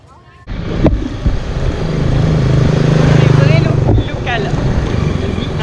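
Motor scooter ride through busy streets near Angkor, engine drone and wind rushing steadily after a sudden start, with traffic and chatter around and people talking over it.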